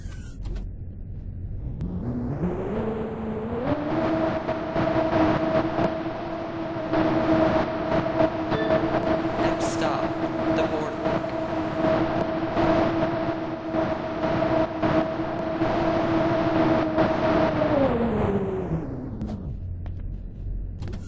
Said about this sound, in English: The train is approaching.